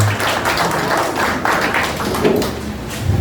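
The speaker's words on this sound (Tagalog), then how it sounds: "bigyan po natin minsan pa ng malakas na palakpak ang ating Panginoon" A church congregation claps together in steady, dense applause that fills the room for a few seconds without letting up.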